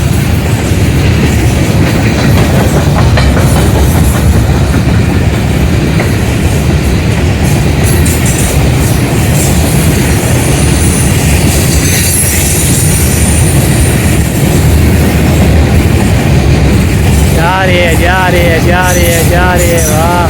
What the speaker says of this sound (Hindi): रेलगाड़ी पहुंच गई है जी।